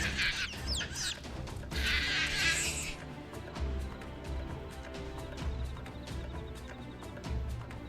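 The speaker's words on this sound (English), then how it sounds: "Are you just going to stand there squawking at me all night?" Squawking, clucking calls from Sahagin in Final Fantasy 14, repeated in choppy bursts over a steady game background, with a brighter shrill flurry early on.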